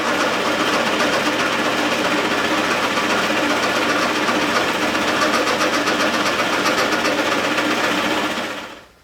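A drill press bores holes in wooden toy wheels, giving a loud, steady whirring drone close by that runs unbroken for about eight seconds, then cuts off sharply. No one speaks.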